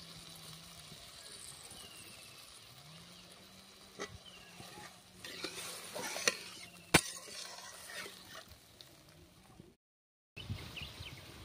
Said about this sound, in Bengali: জলটা দেওয়ার পরে ঝোলটা ফুটে উঠেছে